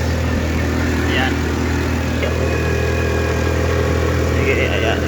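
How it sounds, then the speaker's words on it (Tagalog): Scooter engine straining up a steep hill on a barangay road, a steady continuous drone held throughout with faint wind and road noise. "Tingnan nyo ang tunog ng makina."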